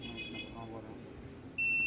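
A continuity tester's sharp electronic buzzer switches on abruptly near the end, detecting a short on an amplifier board, loud and steady, after a stretch of quiet background noise.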